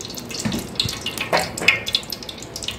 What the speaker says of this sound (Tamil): நெய் ஒரு 100 ml ஊற்றிக்கலாம்.